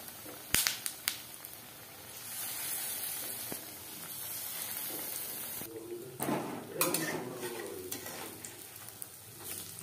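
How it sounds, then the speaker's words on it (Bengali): Potato chops (alur chop) frying in hot oil in a kadai on a medium flame, giving a steady sizzle with a few sharp clinks early on and louder bubbling bursts later, no talking. "চপ ভাজবো মিডিয়াম ফ্লেমে।"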